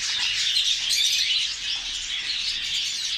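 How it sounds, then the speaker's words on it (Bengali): Cockatiels in a Saudi bird shop chirp and chatter continuously, many high, bright calls overlapping in a busy, steady chorus with no speech. "দেখেন এগুলো ককাটেল, সিনামল পাল"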